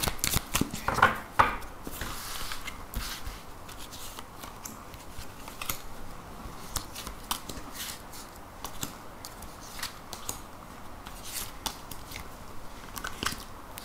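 Tarot cards are shuffled and drawn, with close, quick crisp flicks and snaps of card stock scattered over a quiet background and no talking.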